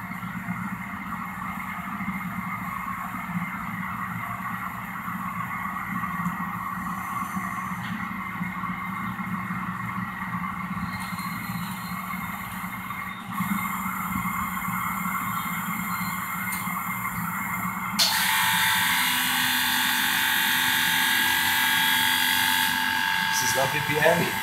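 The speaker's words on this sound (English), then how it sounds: "Now it will wash it again, wash the tubing of the autosampler." A Phoenix PG-986 flame atomic absorption spectrometer's autosampler washes its tubing, giving a steady mechanical whirring hiss with whining tones that shifts and grows louder partway through, while a person talks over it.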